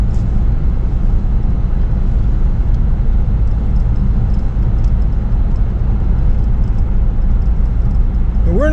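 An old car drives on a cold morning, its engine giving a steady low rumble with road noise that holds an even level from start to finish, heard from close inside the vehicle.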